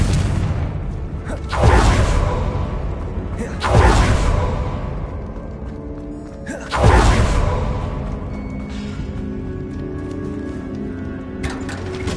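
Fire spells explode in Hogwarts Legacy as three heavy, whooshing booms land a couple of seconds apart over a steady rumbling game soundtrack.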